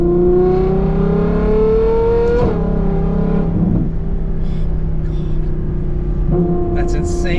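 Straight-piped Novitec Ferrari 812 N-Largo with its front-mid-mounted V12 emits a loud, close, harmonically rich howl that climbs in pitch, drops sharply after a shift, then settles and climbs again.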